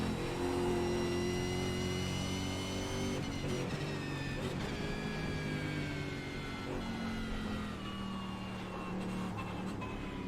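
Race car engine in the iRacing sim, a Mustang or ZB Commodore, droning steadily with harmonic whine, shifting pitch as it rises and falls through gears, loud and close with no talk.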